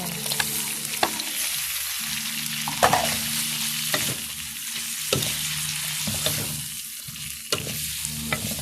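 Malabar spinach and shrimp stir-fried in a pan, a continuous sizzle broken by sharp scrapes and clanks of the spatula at irregular intervals, close and alone without speech.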